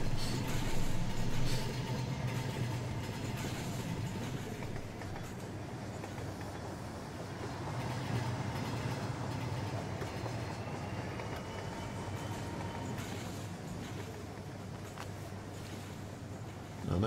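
A train passes through Earlestown Junction in the Rolling Line model railway game, a continuous rolling rumble with a faint clickety-clack of wheels over rail joints, heard alone without voices.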